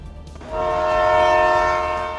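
A local train at a railway station sounds a long, loud steady horn that swells in after a short rumble and holds to the end.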